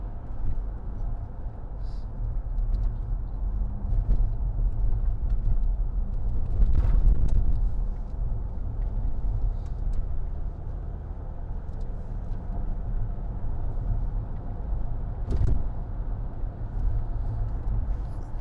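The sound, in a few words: 2010 Range Rover Sport 3.0 TD V6 driving on bumpy road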